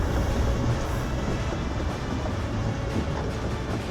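A train rolls along a railroad in the FFXIV Dawntrail game, a steady continuous low rumble with faint rail clatter, holding constant and fairly loud throughout with no talking.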